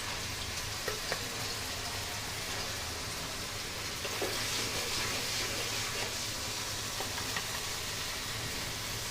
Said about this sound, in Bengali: এই মশলাটা আমি ভালোভাবে কষাতে থাকবো